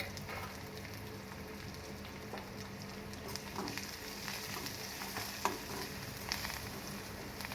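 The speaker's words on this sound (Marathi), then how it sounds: "त्याला चांगलं परतून घेते," A coarse paste of green chilies and garlic, with red chili powder and a quarter teaspoon of turmeric, frying in a pan with a steady low sizzle, faint stirring scrapes and a few sharper clicks, no talking.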